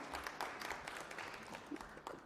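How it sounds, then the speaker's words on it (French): Faint, steady applause from a conference audience welcoming an ILO department director, a soft continuous patter of clapping lasting a couple of seconds. "On va l'applaudir."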